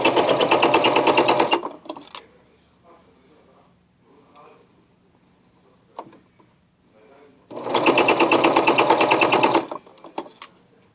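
A sewing machine stitches a pants seam in two loud, rapid bursts of running needle, separated by quiet handling sounds and faint movement.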